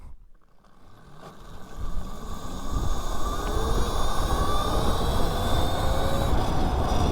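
A modified mini bike pulls away from a standstill and accelerates to about 30 mph, its engine note climbing steadily and growing louder over several seconds, with broadband rushing noise close up and no talking.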